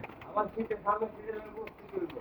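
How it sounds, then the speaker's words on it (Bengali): Pigeons coo in short, repeated bursts after being let out of confinement for the first time in six months, with someone talking nearby over the calls. "ছয় মাস পর কবুতর ছাড়া পাইতেছে"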